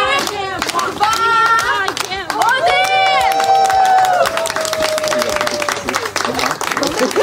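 Applause at a ribbon-cutting ceremony for a youth centre in Brody, Ukraine: steady crowd clapping with voices and a sustained tonal sound carrying over it throughout.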